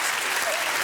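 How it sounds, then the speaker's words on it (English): A talk-show studio audience claps and cheers in a dense, loud burst of applause that fills the whole brief moment. "Don't applaud that! Don't clap!"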